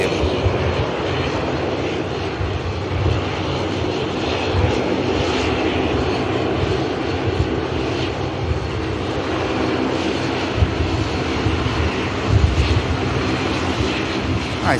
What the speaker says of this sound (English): About to get a glimpse of the awesome Dash 8 of Dash Havilland Dash 8 of Lux Air